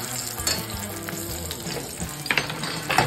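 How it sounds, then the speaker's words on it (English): Eggs frying and being basted in a hot pan, a steady close sizzle with occasional louder spits and crackles. "That's the thing to do, I guess, is to baste your eggs. To get those whites cooked."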